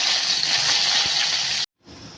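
Garlic and curry leaves sizzle loudly in hot oil for a crab curry, a steady, close hiss that cuts off abruptly, drops to silence, then returns more quietly.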